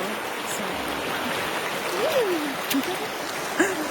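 A stream flows continuously, rushing and babbling steadily throughout, with a few faint higher chirps drifting above the broadband wash.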